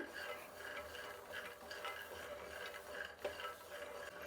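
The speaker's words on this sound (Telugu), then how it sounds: "వేయించేటప్పుడు కూడా చూసారా సౌండ్ వస్తుంది పల్లీలో" Peanuts and green chillies dry-roasting in a pan without oil, giving a soft continuous rustle with faint irregular clicks and crackles, close and steady, with no talk.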